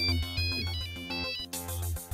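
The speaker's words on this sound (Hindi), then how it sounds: "फोन करता हूँ" A phone ringtone plays a bright, repeating electronic melody with a steady beat, fairly loud and alone, as a call is placed in a mall.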